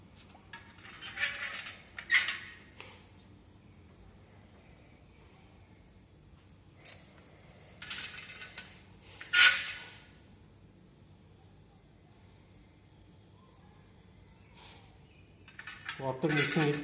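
Reagents such as alkaline copper tartrate mixed in glass test tubes make scattered bursts of glassy clinking and rattling, close by, with quiet gaps between them and a low hum underneath.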